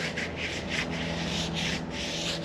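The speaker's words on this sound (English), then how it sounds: "As we'll grease this bead." Grease is rubbed onto the bead of a motorcycle tire on a cross-spoked wheel, a close, repeated scrubbing rasp in quick rhythmic strokes over a low steady hum.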